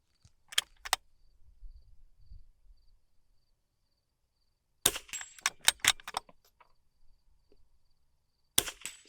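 Rimfire rifle rounds strike an adjustable steel spinner target set to its most unbalanced position, giving sharp cracks and metallic hits in quick bursts separated by quiet pauses, moderately faint.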